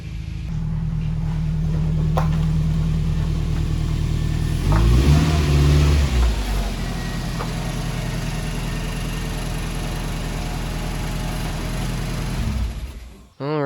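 A wrecked Toyota Tacoma pickup idles and rolls while backing into a garage, its steady engine hum rising in a short, loud revving burst midway before settling back to idle and cutting off at the end.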